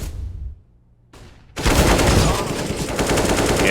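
Rifle fire in Counter-Strike: Global Offensive during a pro match on Mirage: a short crack, a brief pause, then a loud, sustained burst of rapid automatic gunfire that fills the rest of the moment.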